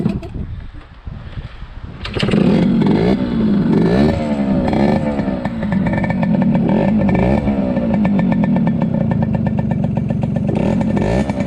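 A Yamaha RD60 motorcycle, a long-stored barn find, cranks briefly and then fires, settling into a loud, steady, raspy two-stroke idle that keeps running close by.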